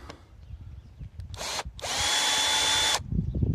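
A power drill unscrews screws from vineyard trellis posts, with a short whirring burst followed by a longer, steady high-pitched run, loud and close, with faint handling noise around it and no talk.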